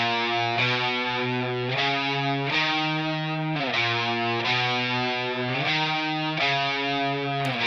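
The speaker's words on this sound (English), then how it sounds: "so we have this main distorted electric guitar that's kind of just doubling what the bass is playing an octave higher." Distorted electric guitar, double tracked and panned left and right in a rock mix, doubles the bass line an octave higher with sustained chugging notes that change pitch every bar or so.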